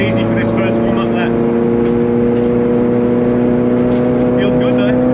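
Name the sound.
race car driving on track, from a racing video game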